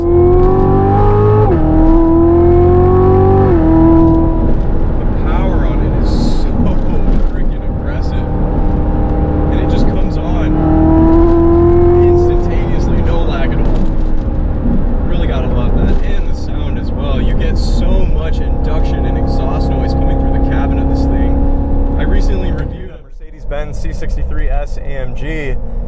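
A 2019 Chevrolet C7 Corvette Z06 with 650 horsepower accelerates hard, its engine note climbing through rising harmonics and shifting gears over roughly 25 seconds, loud and continuous from inside the car, with someone talking over it.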